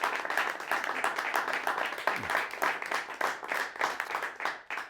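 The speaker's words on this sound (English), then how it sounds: "Give yourselves a round of applause" Applause from a live talk-show audience, a steady patter of many hands clapping at moderate distance for about five seconds, with a faint voice briefly audible underneath.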